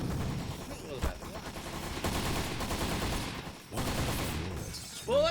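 Dense rapid gunfire from the video game Postal 3, with loud overlapping bursts of shots that run almost without pause, a brief lull near the end, and a voice talking underneath.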